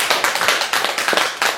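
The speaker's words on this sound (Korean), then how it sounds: "박수 한번" An audience claps together in a brief burst of quick, fairly close applause, dense and even, with no talking over it.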